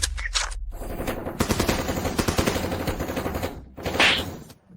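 Rapid gunfire from a gun in a drama rattles in a loud, dense burst lasting a few seconds, preceded and followed by brief gaps, and ending with a sharper blast that fades.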